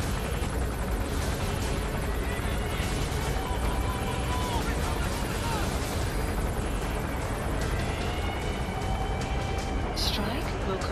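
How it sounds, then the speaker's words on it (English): Support helicopter in Metal Gear Solid V arriving as a steady, loud rotor drone that fills the whole stretch, with a voice talking over it. "Support helicopter requested."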